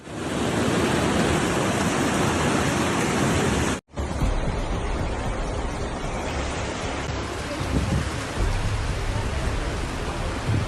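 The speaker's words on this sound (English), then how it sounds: "torrential rains began pouring down during the night" Torrential overnight rain pours down during flooding in the coastal town of Cadaqués in Spain's Girona region. It is a loud, steady hiss that briefly cuts out before resuming slightly softer.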